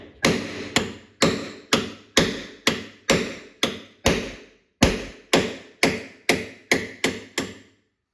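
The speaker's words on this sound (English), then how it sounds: "I've got a metal chisel and a hammer here." A hammer strikes a metal chisel to break a stuck power supply screw in an arcade cabinet, with about fifteen loud, sharp, evenly spaced blows and short ringing decays between them.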